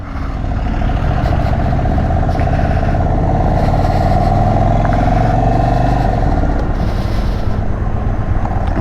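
A 2022 Indian Chief Dark Horse motorcycle on the move, its engine a loud, continuous low rumble with a droning wind-blown roar, steady throughout and close to the rider, with no talking.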